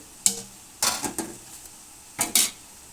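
Tomatoes tipped into a pan of sizzling radish fry, giving a few sharp clattering bursts over a low hiss, with a short pause between them and no talking.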